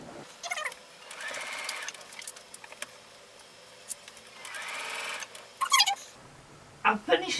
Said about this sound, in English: Try and pin it first and then sew it on the machine